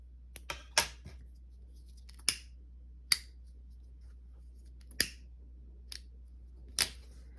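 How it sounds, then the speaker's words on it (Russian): Scissors snipping cord thread while crocheting a round children's bag, a series of sharp, close, isolated clicks spaced irregularly over a quiet background. "Потом обрезаем ниточку."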